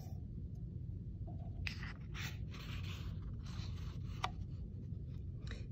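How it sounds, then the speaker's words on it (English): Square paper folded and creased for an origami heart, giving soft intermittent rustles and scraping strokes over a steady low background hum, close and fairly quiet. "we are going to fold our paper diagonally on both sides so that we create an X"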